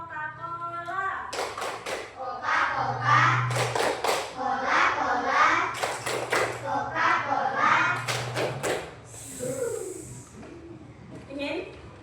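Schoolchildren in a classroom perform a clapping chant, voices chanting together with bursts of synchronized hand claps in a steady rhythm, the teacher's voice audible near the end.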